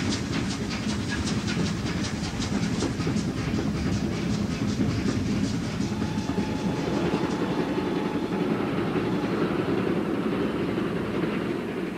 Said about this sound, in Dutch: De trein rijdt dwars door Duitsland, dag en nacht.